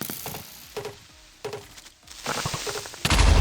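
A creeper in Minecraft explodes in a sudden loud, broad blast at the very end, after a few quieter clicks and game noises.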